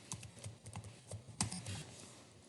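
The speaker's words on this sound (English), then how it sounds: "I'm going to type in bullying." Quiet computer keyboard typing, a brief run of soft irregular key clicks with one sharper tap, close and alone without talking.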